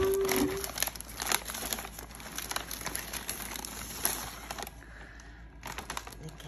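Close crinkling and rustling of the packaging around Air Force 1 07 LX UV Reactive sneakers during unboxing, a steady papery crackle with small tearing bits, light talk in the background.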